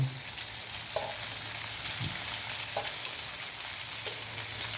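Cooked rice frying in a pan with garlic already browned for Filipino sinangag, giving a steady close sizzle with a few soft scrapes of stirring and no talk.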